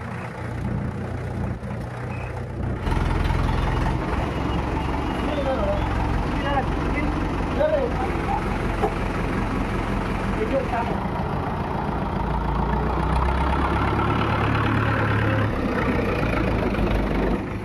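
A tractor's diesel engine runs steadily at a low throb after a quiet start, with people talking over it and a faint rattle throughout.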